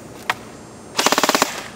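An ICS Sig 552 airsoft gun fires one short crack, then a fast burst of about eight rapid, evenly spaced shots, close and sharp.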